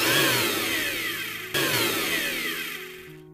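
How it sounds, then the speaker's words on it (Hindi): Roasted peanuts being ground in a mixer grinder jar with its lid on, a loud close whirring roar that runs, cuts off briefly, restarts and then winds down to a stop. "अब इसे हमें ग्राइंडर जार में डालेंगे और इसका लिड लगा कर ग्राइंड कर लेंगे।"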